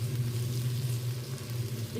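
Mushroom and onion pieces fry in a pan for chilli mushroom, giving a continuous soft sizzle with low hum underneath and no speech.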